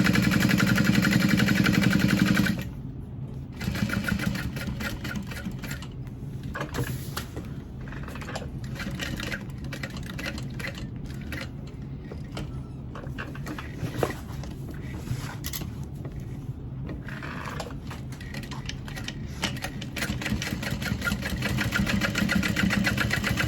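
A sewing machine runs steadily for a long stretch, top stitching a thick leather Felicity tote bag, a loud burst at the start giving way to a continuous mechanical hum with small fluctuations.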